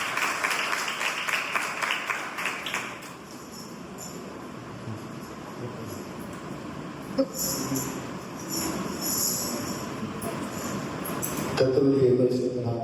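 A church congregation at a live testimony service in Nagercoil claps together in sustained applause, a dense noisy roar that holds steady and swells louder toward the end.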